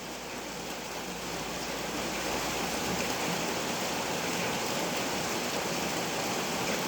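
Heavy rain pours down steadily at a home, a dense, even hiss of water that stays loud and unbroken throughout, with no voices over it.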